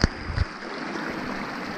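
Clear water of a stream flowing through dense forest on a mountain trail, a steady broadband rush with a brief louder splash at the start, continuous and fairly close with no talk.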